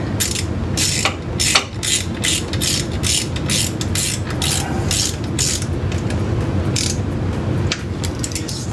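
A ratchet wrench tightens clutch bolts on a Hyundai Veloster Turbo during a clutch install, giving close, loud, rapid clicking in repeated bursts over a steady mechanical background.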